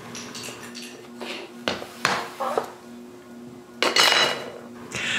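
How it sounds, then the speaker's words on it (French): Screws are taken out of a zebra blind, with close metallic clinks and small clatters in irregular bursts over a low, steady hum. "je peux enlever toutes les vis"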